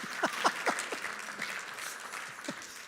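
Conference audience applauding in a hall, a sustained wash of clapping at moderate level, with a few distinct louder claps near the start and at the end.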